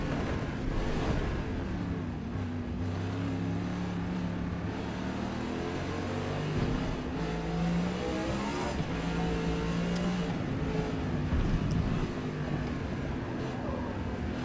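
A GT-1 class race car from the SCCA Runoffs, rear-wheel drive on wide racing slicks, in the video game Forza Motorsport, its engine droning and revving continuously with rising and falling pitch through shifts, loud and steady throughout, with no talking.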